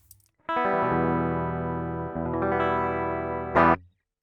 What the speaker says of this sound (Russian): Вот так звучит у нас DI-гитара через этот прос.